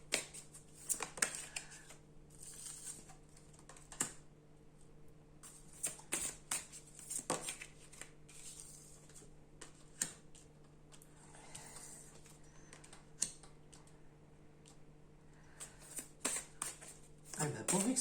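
Tarot cards shuffled for a love reading, a soft repeated riffling and patting that comes in short bursts across the stretch, with a steady low hum underneath and occasional voice nearby.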